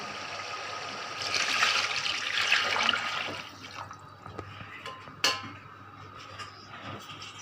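Water from a bucket poured into a big commercial pot of browned beef for dhaba-style biryani: a loud rushing pour for a few seconds fading to trickles and drips, with one sharp clink near the end.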